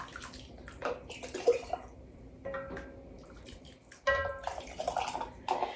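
Ladle scooping French onion soup, onions and broth from the bottom of a pot into canning jars, with wet splashes, drips and sloshing pours in uneven bursts, close and moderately loud.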